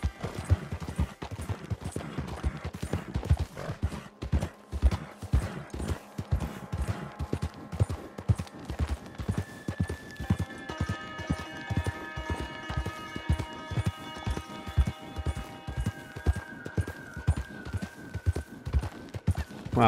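Horse galloping across open Wild West country in the video game Red Dead Online, with steady rapid hoofbeats pounding throughout and loud up close, while a tonal music bed rises in the background partway through.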